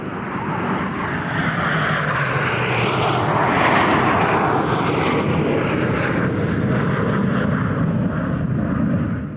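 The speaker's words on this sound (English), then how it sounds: "The telltale smoke gives away the arrival of 4 MiG-29 fighters" Four MiG-29 fighter jets in a dogfighting display roar continuously overhead, a broad, loud jet rumble that swells midway and stays sustained throughout.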